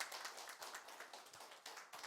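A small audience applauding at a Bible lecture gathering, a brief scattered patter of hand claps, fairly faint and a little distant.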